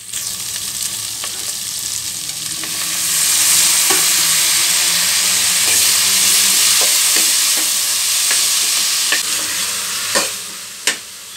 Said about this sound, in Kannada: ಈಗ ಟೊಮೆಟೊ ಸೇರಿಸ್ತೀನಿ